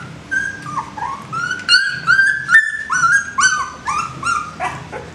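Newborn puppies whimpering and yipping, a series of high, wavering whines and squeaks that come in quick overlapping bursts, close and fairly loud, with no speech.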